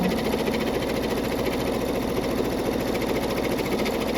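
A Brother NQ3550W embroidery sewing machine stitches out a lace heart, its needle hammering in a fast, even, mechanical rhythm, loud and close throughout with no talking.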